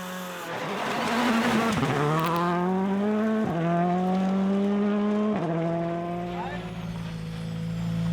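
Rally car on a gravel stage at the Goldrush Rally Coromandel, New Zealand: engine revs hard and rises through several gear shifts with brief drops between, loud and near, then tapers slightly as it passes.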